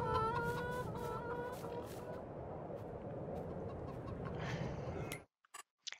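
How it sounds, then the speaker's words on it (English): Chickens clucking in Farming Simulator 22 with the Enhanced Animal mod: a few tonal clucks and calls rise above a steady, busy flock murmur and stop abruptly near the end. "I'm surrounded by chickens."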